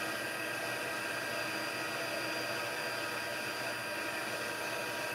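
A handheld heat embossing tool melts embossing powder on a handmade card, giving a continuous, even blower hiss with no change in level throughout.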